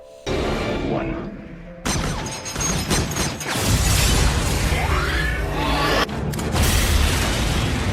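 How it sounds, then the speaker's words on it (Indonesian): Glass shatters under gunfire aboard the Stinger ship during a sci-fi film action scene, loud and dense, with crashing impacts, booms and whooshing debris layered over continuous battle noise. "mereka pun berhasil menembaki kaca yang ada di kapal Stinger"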